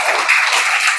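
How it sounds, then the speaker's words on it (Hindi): Schoolchildren in a village government school applaud themselves, a dense burst of quick, bright clapping from many small hands, close and loud, held steady for about a second. "सारे बच्चे ताली बजाओ अपने लिए पहले तो"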